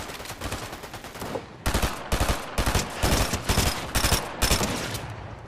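Gunfire in the Fortnite video game crackles in loud, rapid bursts, repeated volleys of shots close up with brief gaps between them.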